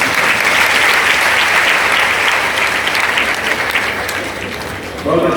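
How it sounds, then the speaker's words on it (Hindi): A large crowd at a three-day devotional satsang gathering in Moradabad claps together, loud, dense applause that rolls on for several seconds and eases slightly toward the end before a brief renewed burst. "मेरे लिए नहीं अपने लिए ताली बजाइए।"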